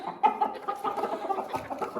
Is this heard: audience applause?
no